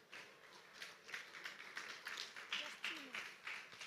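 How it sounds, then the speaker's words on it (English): A conference audience applauds a speaker with soft, quiet clapping in a loose rhythm of taps, somewhat distant, while a voice talks over it. "Let's clap for her,"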